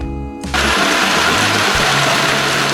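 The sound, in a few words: 280-horsepower combine harvester engine harvesting maize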